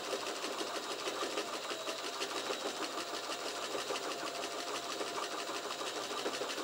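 A sewing machine stitching leather runs in a fast, steady, even rhythm throughout, heard close and alone with no voices.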